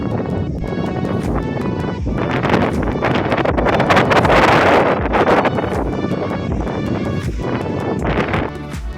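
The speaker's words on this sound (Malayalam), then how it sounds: "ഇവിടുത്തെ ഒരു കാറ്റ് എന്ന് പറഞ്ഞാൽ അടിപൊളി കാറ്റാണ്" Strong, steady wind on a high hilltop in the high ranges roars and buffets the microphone with a loud, continuous rushing that swells in the middle, with no voices.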